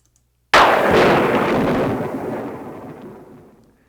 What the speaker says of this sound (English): That is a famous thunder sound effect from long ago.